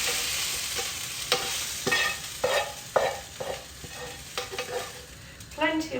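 Vegetables sizzle in a hot pan while being stirred for slow-cooked beef cheeks, with irregular scraping bursts of frying and crackle, close and moderately loud, no talking.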